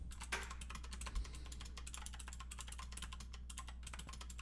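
Fast typing on a computer keyboard during a friendly coding session, a dense, steady patter of close key clicks carried on without pause over a low hum, with no one speaking.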